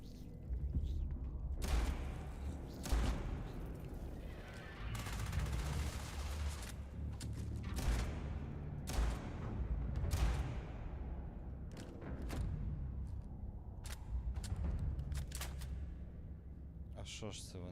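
Shotgun blasts from the video game Starfield boom in a dense, irregular series of loud bursts, some close together, against a continuous rumbling game backdrop.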